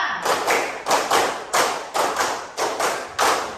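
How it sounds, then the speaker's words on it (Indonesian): Classmates clap a set five-part rhythm pattern in unison twice through, six loud, evenly spaced bursts of group clapping heard close with no talking. "Baik, semuanya 2 kali tepuk 5."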